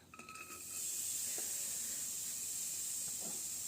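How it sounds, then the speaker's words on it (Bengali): Grated coconut hits a hot wok with a steady, close hiss that rises within the first half second and then holds evenly, with faint stirring scrapes underneath. "এবার আমি যে নারকেলটা কুড়িয়ে রেখেছিলাম কড়াইয়ের মধ্যে দিয়ে দিচ্ছি। কড়াইটা গরম হয়ে গেছে।"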